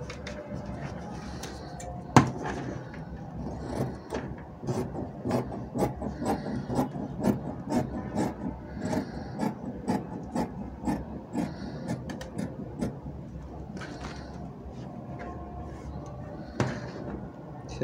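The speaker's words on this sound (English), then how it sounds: "So here I'm just going to close this and cut out my collar." Scissors cut through fabric for a bishop collar, making a long series of soft, crisp snips at a steady rhythm, close and quiet.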